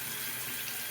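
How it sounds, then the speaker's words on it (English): Water running from a tap to rinse a razor during a wet shave, a brief steady hiss of flowing water close by. "I'm going to rinse off the razor really quick."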